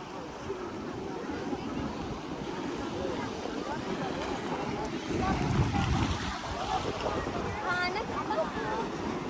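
Sea waves surge and wash in along the Mumbai shore, a continuous rushing roar mixed with gusty wind noise, while voices talk over it throughout.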